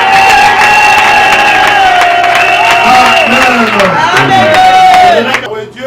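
A church congregation loudly cheering and acclaiming together, a dense sustained roar of voices with shouts and whoops that fades sharply near the end.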